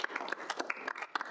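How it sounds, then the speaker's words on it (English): A student senate meeting audience giving clap snaps, a brief, moderately loud flurry of quick irregular snaps and claps, alone with no talk over it. "We can give some clap snaps."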